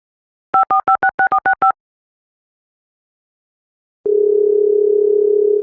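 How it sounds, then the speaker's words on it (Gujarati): A telephone call gives a quick run of about seven short beeping tones as the number dials, then a pause, then a steady sustained ringing tone on the line to the end. "રિંગ જાય"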